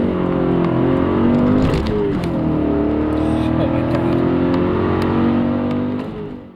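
A BMW M5 in sport mode accelerates hard in first gear, its engine roaring loudly with a rising then sustained rev, up close and continuous before fading at the end.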